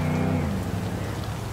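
Rainfall in the game Cyberpunk 2077 after patch 1.5, a steady, even hiss of rain close by with a low rumbling undertone, continuous and fairly loud throughout.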